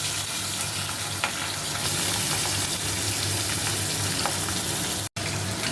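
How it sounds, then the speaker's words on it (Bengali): Pabda fish fry in hot oil in a pan, giving a steady, loud, close sizzle with small crackles throughout and a brief dropout near the end. "এবারে আমি পাবদা মাছ ভাজা বসাবো, ভীষণ ভাজে।"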